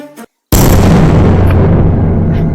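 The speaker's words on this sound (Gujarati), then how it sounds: "અમારામાં આટલો ભારે બોમ્બ જ પડ્યો" A heavy bomb explosion sound effect: a sudden loud boom that follows a short silence and leaves a long, rumbling, dense roar that fades slowly, with no talk over it.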